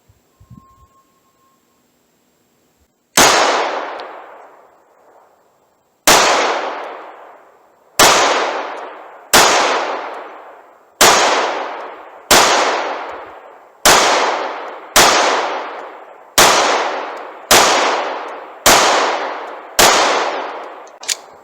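A Taurus G2C pistol fires Hornady Critical Defense 115 grain rounds at a shooting range: eleven loud, sharp shots, each trailing off in a ringing decay, spaced roughly two seconds apart after a brief quiet start.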